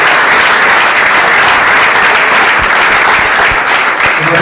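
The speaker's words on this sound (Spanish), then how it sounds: "pido un fuerte aplauso para la intendencia centenaria" A crowd at a political rally in Neuquén bursts into loud, sustained applause, a thick, unbroken roar of clapping held at full strength throughout.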